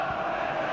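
Stadium crowd in PES 2016 football game, a steady dense roar of spectators appreciating play at a Crystal Palace versus Manchester United match, continuous and fairly loud for under a second.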